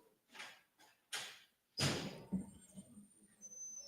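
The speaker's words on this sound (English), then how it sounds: "hold on, I let the brother get the door" A door is opened after a couple of soft knocks or thumps, followed by a louder thud and rattle as it swings, heard at moderate distance in a quiet indoor room.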